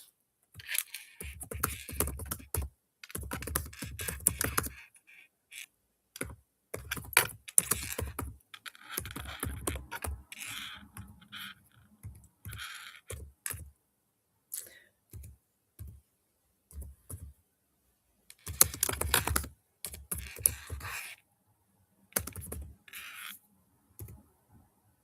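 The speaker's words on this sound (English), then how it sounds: "I'm just going to type it in the chat as well." Keys clatter on a computer keyboard in uneven bursts of quick typing separated by pauses, close and fairly quiet, with no talking over it.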